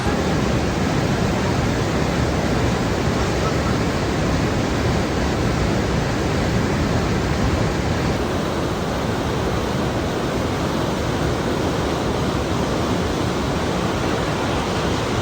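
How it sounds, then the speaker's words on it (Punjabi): Fast-flowing water in a mountain stream along the old trail to Hemkund Sahib, a dense, unbroken roar that stays loud and steady throughout with no voices. "ਪਾਣੀ ਵਗ ਰਿਹਾ ਭਾਈ ਪੂਰੀ ਸਪੀਡ ਨਾਲ"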